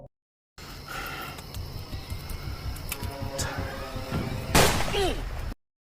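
A gunshot in an animated cartoon, a sharp loud bang that stands out near the end above busy background music and effects, followed by a brief ringing tail.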